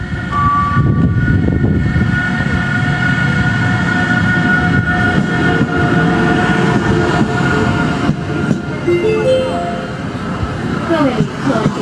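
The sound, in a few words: passenger train C944 entering Heli station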